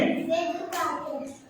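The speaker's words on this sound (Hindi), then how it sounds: "नियाज के लिए ताली बजाइए।" Children clapping for a classmate in a school classroom, a short burst of applause with a voice briefly audible over it.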